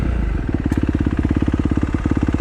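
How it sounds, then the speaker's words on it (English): 2015 Kawasaki KX250F dirt bike engine idling in gear with the clutch pulled in, a steady rapid low thumping pulse, close and loud, with no voices. "Idles in gear with the clutch in."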